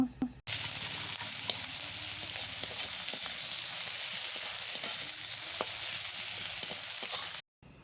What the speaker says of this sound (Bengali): পেঁয়াজ কুচিয়ে ভালোভাবে নাড়াচাড়া করে ভেজে নেব।